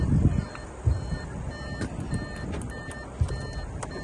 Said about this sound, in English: Power tailgate.